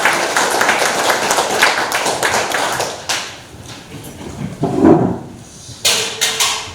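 A crowd at a Korean anniversary ceremony claps to welcome the chairman, a burst of dense applause that breaks off, followed by scattered thumps and a few short renewed claps.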